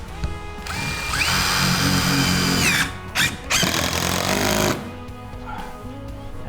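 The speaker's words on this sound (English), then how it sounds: "You can tell when you hit it because it'll suck that screw right in and pull it in, where if you're just hitting drywall, they just spin." A power drill drives screws through drywall into a wooden stud, whining loudly in two long close bursts that ramp up and stop, with a short blip between them.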